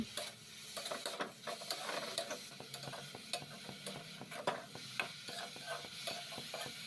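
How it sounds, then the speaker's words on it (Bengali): Carrot, papaya and green chili ghonto is stirred and fried in a pan, giving a soft steady sizzle broken by rhythmic scraping and clinking strokes of the spatula, quiet and close with no talking. "এবার ভালো করে আবার মিশিয়ে भाजा भाजा फ्राई करे निते होबे।"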